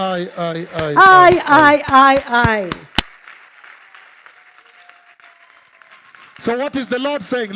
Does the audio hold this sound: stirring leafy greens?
no